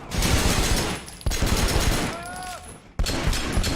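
Gunfire in the video game Sleeping Dogs: Definitive Edition, a dense burst of shots during a hostage fight against a gunman using a civilian as a body shield, loud and continuous with sharp cut-ins, plus brief tonal game effects.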